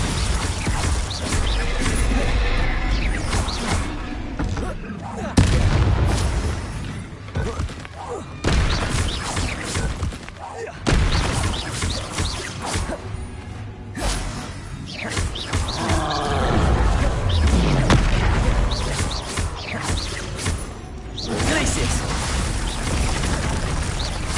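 Spell blasts in the Hogwarts Legacy video game, including Confringo, Glacius and Bombarda, land as a dense run of booms, thuds and roaring bursts mixed with game effects.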